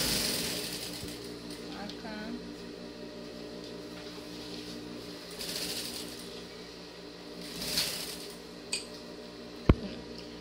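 Sewing machine running steadily as it stitches two pieces of fabric together for a gingham ruffled skirt, a close mechanical whir under a woman's speech, ending with a few small clicks.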